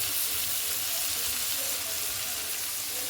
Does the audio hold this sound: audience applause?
no